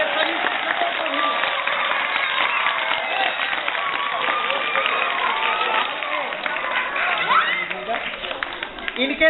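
A school gathering applauds to welcome the teaching staff, a sustained crowd clapping with some cheering, loud and continuous, with voices in the mix.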